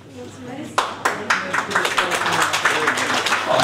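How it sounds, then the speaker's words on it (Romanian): An audience at a Bessarabian cultural evening breaks into applause after a brief quiet stretch, sharp claps building into steady, dense clapping with voices faintly underneath. "Aplaudați tânăra generație"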